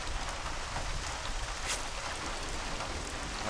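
Steady rain patters in the video game Paranoia, a dense even hiss of drops on surfaces with no talk.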